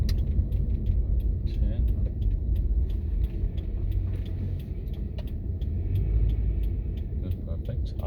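A car drives and turns during a driving lesson, its steady low engine and road rumble continuous and close from inside the cabin, with brief clicks and an instructor's voice speaking over it.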